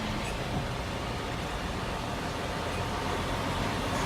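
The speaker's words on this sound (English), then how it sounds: "That's a loud truck right there" Broad, steady roar of a loud truck on snowy Interstate 40 near Kingman, Arizona, a constant rumble of heavy traffic without distinct pass-by peaks.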